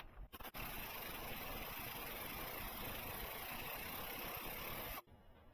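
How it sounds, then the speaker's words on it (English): A pneumatic air tool drives a wheel bearing out of its hub with a wheel bearing press tool, making a loud, continuous buzzing hammer for about five seconds, then stopping abruptly. "The manual says don't use air tools. And so I'm going to use air tools."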